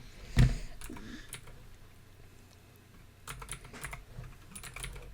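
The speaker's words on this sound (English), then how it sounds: "Is he still typing?" Typing on a computer keyboard: irregular bursts of light clicking keystrokes with pauses, fairly quiet and heard alone without talk.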